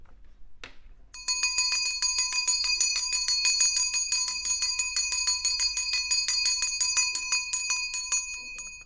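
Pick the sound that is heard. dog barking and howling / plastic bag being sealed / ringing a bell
ringing a bell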